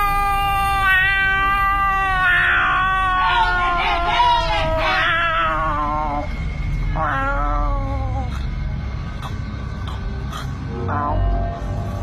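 A creature called the Paracang, from Indonesia, lets out drawn-out, wavering wails that sound like a yowling cat. The calls come in several loud, close bursts over a steady background hiss.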